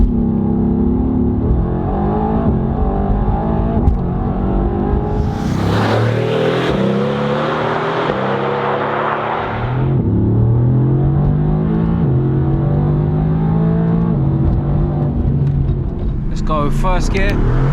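A Mercedes-AMG GT R supercar in race mode revs hard through first gear with instant shifts, its engine note rising and falling loudly from inside the cabin while someone talks over it.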